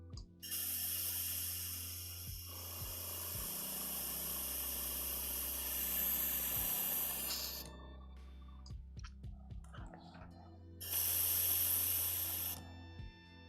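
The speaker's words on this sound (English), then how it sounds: "With the air compressor." Airbrush spraying paint, fed by an air compressor that runs as a steady low drone throughout, with two long bursts of loud hiss separated by quieter compressor running.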